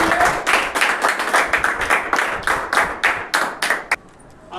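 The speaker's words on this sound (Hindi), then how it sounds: "बहुत सुंदर, जोरदार ताली बजाइए इन लोगों के लिए" Children clapping in a classroom, a loud, quick burst of roughly a dozen rhythmic group claps close by, ending abruptly into near quiet.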